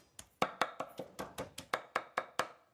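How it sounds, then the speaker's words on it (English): Spinach chopped with a knife on a cutting board, about a dozen crisp evenly spaced chops in a steady rhythm, close and clear with no talking. "I'm gonna chop the spinach."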